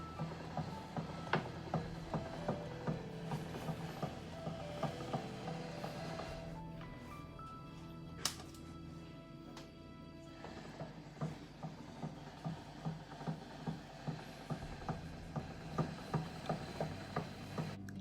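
A CGOLDENWALL pasta maker kneads dough with a steady mechanical churn and regular knocking pulses, fairly quiet and continuous, with a brief sharp clack midway.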